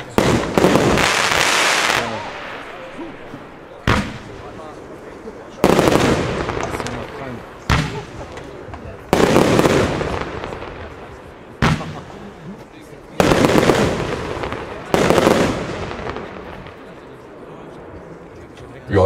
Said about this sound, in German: war früher mal F3 als eine Batterie, ist jetzt ein Verbundfeuerwerk, die SL49 Fire Sensation.